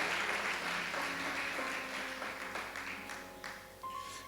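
An audience claps steadily through the whole stretch, a dense wash of many hands at moderate distance that slowly thins toward the end, with faint voices and a brief tone underneath.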